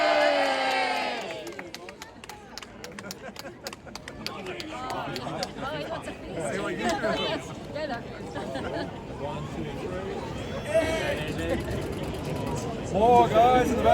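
A group of people at a football grand final player presentation cheering together after a countdown, a loud burst of whoops and shouts near the start, then continuing crowd chatter and scattered yells in the background.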